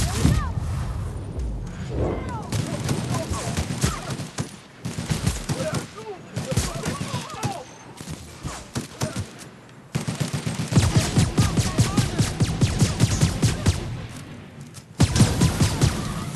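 Rapid bursts of gunfire from weapons in The Outer Worlds video game, on Gorgon, fired in repeated volleys across the whole stretch with booming impacts, while a player talks over the shooting.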